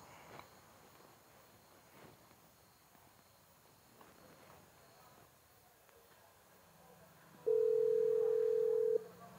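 A single steady electronic telephone tone sounds for about a second and a half near the end, after quiet ambient rustling.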